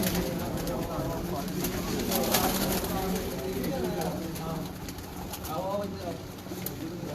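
Pure Neel Dumba pigeons coo repeatedly in a loft, the soft throaty calls steady over several seconds while people talk nearby.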